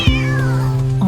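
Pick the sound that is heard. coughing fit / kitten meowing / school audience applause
kitten meowing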